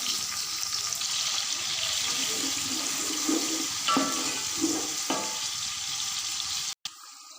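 Onions fry in hot cooking oil for chicken pulao, a dense, even sizzle filling the whole stretch close up, with a few stirring scrapes partway through and a brief cut near the end.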